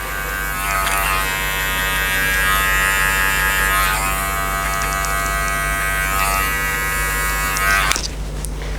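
Electric hair trimmer cutting a skin fade, a loud, close, continuous buzzing whine that holds steady for several seconds and then cuts off abruptly near the end.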